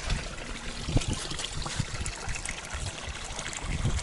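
Spring water trickles and splashes from a bear-head fountain beside a roadside spring, a steady close babble with occasional louder drips and gurgles, no voices.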